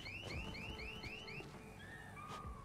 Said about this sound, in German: ich muss dringend diese Alarmanlage ausschalten